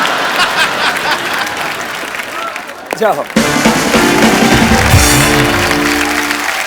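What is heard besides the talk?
audience standing ovation applause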